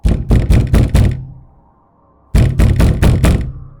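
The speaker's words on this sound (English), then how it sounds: "I heard it, a loud, frantic banging on the door." Loud, frantic banging on a cabin door comes in two rapid bursts of about five heavy knocks each, close and forceful, separated by a brief pause.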